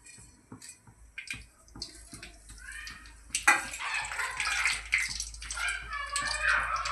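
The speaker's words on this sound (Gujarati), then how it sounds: "પાણી ગરમ મૂક્યું છે હા ગરમ પાણી નાખ્યું" Hot water pours and splashes into a pot of tomato gravy tempering for undhiyu, starting after a few quiet clinks and clatters, then running steadily and close up.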